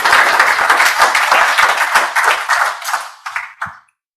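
An audience gives speaker Rebecca a round of applause at a closing panel, loud, dense clapping that thins out toward the end to a few last scattered claps before silence.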